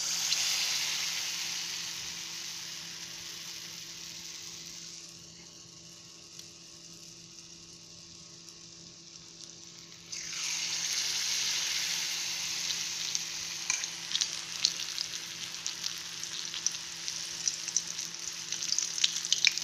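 Ripe banana fritters coated in batter fry in hot oil with a loud, close sizzle. The sound dips to a quieter bubbling for a few seconds, then surges back with sharp crackles and pops.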